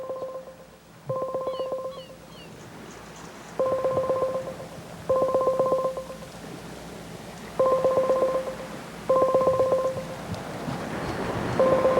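Touch-tone telephone dialing beeps come in regular short bursts of keypad tones, several clusters spaced evenly over steady outdoor background noise.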